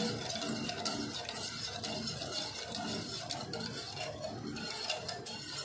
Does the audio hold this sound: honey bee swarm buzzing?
no